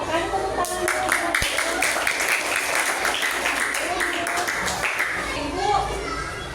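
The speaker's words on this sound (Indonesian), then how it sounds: "kan tepuk tangan" Schoolchildren in an Indonesian classroom clap their hands at the teacher's prompt, a burst of quick, uneven claps close by with kids' voices mixed in, fading as chatter takes over.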